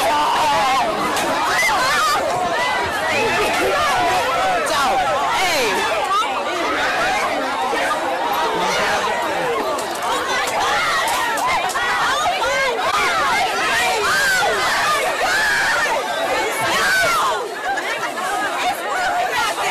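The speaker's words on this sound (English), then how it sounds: "footage of the crowd rushing the store" A crowd rushes into a store during a price-cut sale, heard through news footage as a dense, continuous babble of many excited voices, shouts and some laughter, loud and unbroken throughout.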